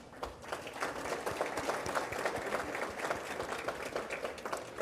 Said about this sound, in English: Let's give our reception entertainers Mike Tarpley and Diedrich Wambo a round of applause.